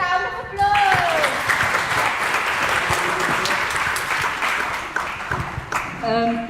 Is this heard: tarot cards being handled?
no